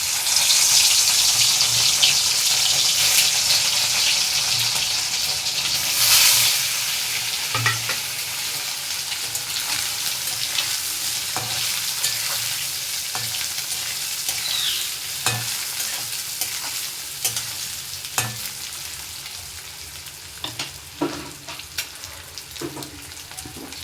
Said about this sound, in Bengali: তো এইগুলোকে আমি তেল বসিয়ে দিয়েছি, তেল গরম হয়ে গেছে। তো এইগুলোকে আমি একটু ভেজে নেব।